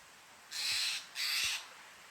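Outdoors by a swimming hole, a bird gives two loud, harsh, crow-like caws, each about half a second long, separated by a brief gap, over quiet background.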